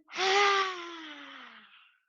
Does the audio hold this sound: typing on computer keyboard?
no